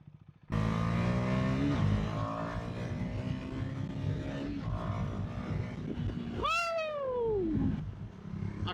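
KTM 390 Adventure motorcycle accelerating on sand, the engine note climbing through gears with a sharp rising-falling rev sweep near the end, loud and close with no talking.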